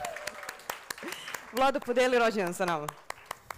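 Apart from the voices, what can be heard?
audience applause for the speaker's birthday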